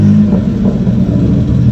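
A Suzuki Khyber car with a newly fitted exhaust rumbles loudly and close by, its engine note steady and deep across a short burst.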